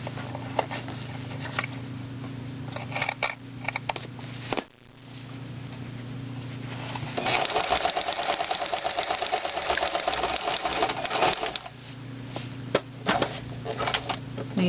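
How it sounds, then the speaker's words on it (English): A sewing machine stitches piping onto the top of a striped cushion cover, running in bursts with steady motor hum and needle patter, pausing briefly mid-way and then resuming at a quicker, louder pace. "Needle down, press your foot up, pivot your fabric."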